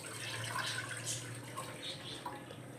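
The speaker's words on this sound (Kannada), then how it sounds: "ಬಾಣಲಿಗೆ ಅರ್ಧ ಲೀಟ್ರ್ ಹಾಲು ಹಾಕ್ತಾಯಿದ್ದೀನಿ" Half a liter of milk pouring into a pan for fruit custard, a steady continuous liquid splash heard alone at close range.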